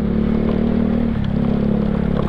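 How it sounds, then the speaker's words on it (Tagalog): A Yamaha Mio Sporty scooter ridden over a dusty off-road track, its small engine droning loud and close with a steady pitch that dips briefly midway, accompanied by rattling and clatter from the rough ground. "At susubukan natin ang Mio Sporty sa off-road."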